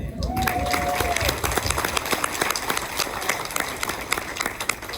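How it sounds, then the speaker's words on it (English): A crowd claps in a dense, steady burst of applause, with a brief whistle-like tone at the start and some voices mixed in. "So I applaud you before I begin."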